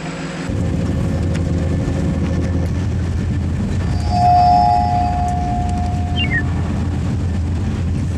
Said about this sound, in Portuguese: Encontrei finalmente a estação de comboios.